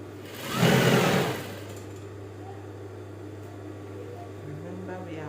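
A sewing machine stitching fabric for short trousers, a steady mechanical hum running continuously beneath a brief burst of louder noise early on.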